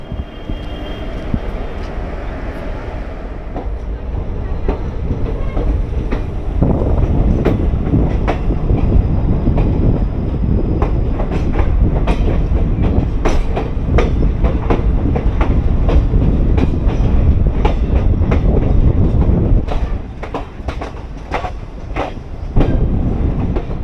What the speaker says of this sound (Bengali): আমাদের ট্রেনের আজকের লিড লোকোমোটিভ রয়েছে তোমরা দেখতেই পেলে ডাব্লিউএপি ফোর ইঞ্জিন আমাদের ট্রেনটাকে রামপুরহাট থেকে চিতপুর পর্যন্ত নিয়ে যাবে